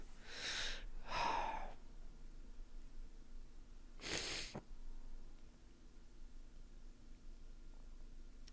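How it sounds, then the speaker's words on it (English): A person with a cold sniffles and breathes heavily through the nose in a few close, short bursts, with quiet pauses between them and no talking. "You just keep listening to me sniffling."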